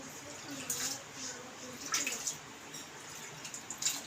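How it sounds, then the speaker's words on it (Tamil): Water splashes and trickles in short bursts, fairly faint, as it is poured into a pot for drumstick-leaf soup in a quiet room. "நம்ம எவ்வளோ சூப்பு தேவையோ அவ்வளோ தண்ணி சேர்த்துக்கலாம்."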